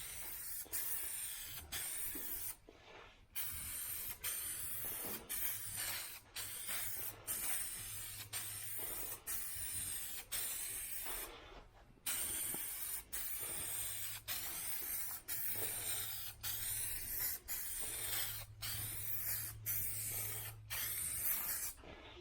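Spray paint hisses onto a 1982 El Camino part in long, loud bursts, repeated many times with brief pauses between passes as several coats go on; no talking.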